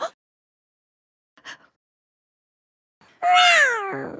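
A small cartoon kitten gives a loud, rising meow near the end, preceded by a couple of faint brief sounds amid silence.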